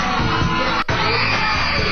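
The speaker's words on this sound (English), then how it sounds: "Listen to the screaming." A crowd yells, whoops and screams nonstop at close range, loud and dense, with one brief dropout near the middle before the roar resumes.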